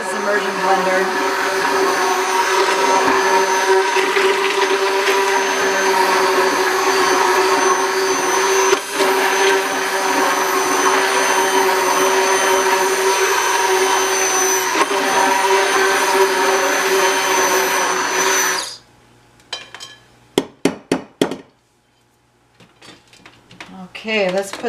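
An immersion blender whirs steadily at close range in a home kitchen while coconut flour tortilla ingredients are blended, a loud continuous motor drone lasting about nineteen seconds before cutting off, followed by a few clattering knocks.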